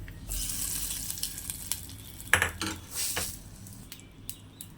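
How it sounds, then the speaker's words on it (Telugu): Mustard seeds, curry leaves and red chillies hit hot oil for tempering, giving bursts of crackling sizzle with light clinks of utensils against the pan, close and moderately quiet. "ఇప్పుడు కొన్ని ఆవాలు కరివేపాకు అండ్ వెండమిర్చి ఫ్రెండ్స్ పచ్చళ్ళ వేసేసుకుంటున్నాను పోపు"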